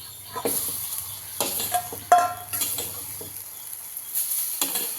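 A spoon scrapes and stirs egg fried rice in a hot pan in repeated strokes over a soft sizzle, with a light clink of metal partway through.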